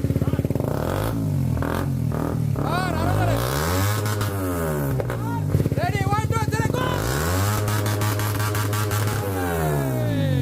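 A motorcycle fitted with an R1-series exhaust tuned for a GSX-R sound starts and revs repeatedly, loud nearby engine roars rising and falling with sharp throttle blips, while someone talks and counts off in Bengali over it.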